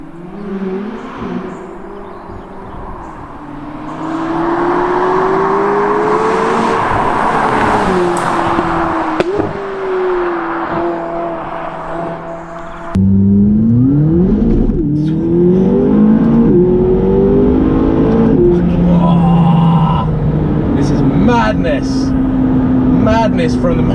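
McLaren Sport Series sports car accelerating, a loud, steady engine drone rising and shifting through gears from inside the cabin, with a harder surge about halfway through and people talking over it.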